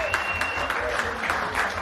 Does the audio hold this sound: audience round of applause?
yes